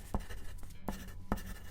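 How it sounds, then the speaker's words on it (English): A pen writing on paper, heard as quiet scratchy strokes with three distinct sharper taps spaced about half a second apart, close and soft with nothing else over it. "I'm not sure why I'm writing this down on paper and not on my computer."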